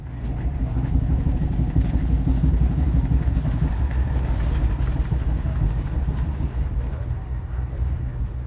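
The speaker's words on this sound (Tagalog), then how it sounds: "Muling bumibilis ang tren natin papasok ng Pennsylvania." A passenger train picking up speed after leaving New York City rumbles steadily with a low, continuous roar and faint rhythmic clatter of wheels on track, heard from inside.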